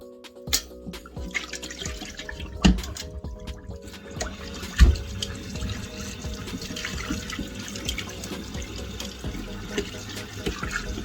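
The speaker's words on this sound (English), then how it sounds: "So we're gonna clean that, wash it properly until all the smell and everything is thoroughly cleaned." Cold tap water runs and splashes continuously over a rohu fish head being washed in a sink, with a few louder knocks and clatters against the basin at close range, no speech.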